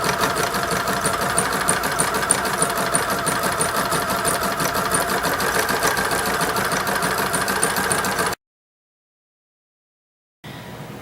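A sewing machine fitted with a darning foot stitches a circus elephant and carousel baby quilt, a steady close whirring hum running about eight seconds, then cutting to brief silence before the motor starts up again.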